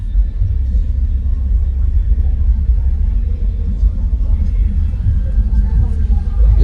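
Deep, sustained bass tone in the mid-20s Hz from 15-inch car-audio subwoofers, a loud, steady low rumble that holds for several seconds with no break.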